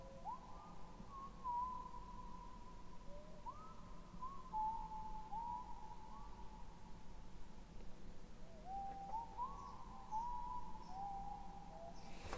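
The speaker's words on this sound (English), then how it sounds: "Who is whistling?" Soft whistling in the video game LISA: The Painful, a series of faint, wavering sliding tones repeating over a quiet hum, heard alone without talk.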